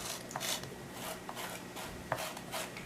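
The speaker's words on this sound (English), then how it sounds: "I'm going to score my clay here really well." A tool scratches and rasps across leather-hard clay, scoring the surface to prepare pieces for a clay box; short, repeated scraping strokes sound close but faint, with no talking.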